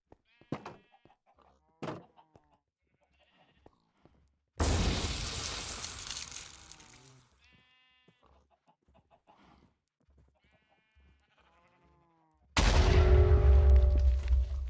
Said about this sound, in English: Oh, we just annihilated that poor sheep.